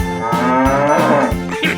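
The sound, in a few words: bull mooing in a 3D animal video game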